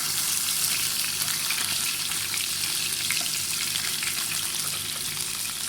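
Ingredients for a Thai mackerel chili dip, such as garlic, shallots and chilies, frying in hot oil until golden: a dense, steady, loud sizzle that runs unbroken throughout, with no talking.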